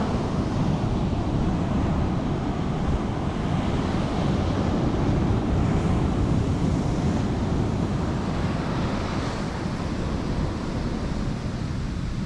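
Strong wind roars across a beach in Canical, Madeira while waves surge in a dense, continuous wash, loud and close for the whole stretch, with no talking.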